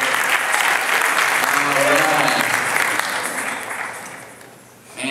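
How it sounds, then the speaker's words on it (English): An audience at a political forum in the Bagdad Theater gives a round of applause, loud and steady at first, a voice speaking over it briefly before the clapping thins and fades out. "Give her a round of applause, Amanda"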